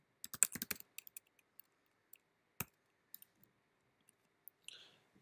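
A computer keyboard is used to type code, with a quick cluster of key clicks at the start followed by sparse, isolated keystrokes in a quiet room.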